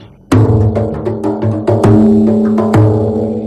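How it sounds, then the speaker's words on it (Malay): Rebana frame drum strikes land in a steady pattern, with sharp slaps over ringing tones, close and loud, no talking. "Rebana bunyinya macam ni."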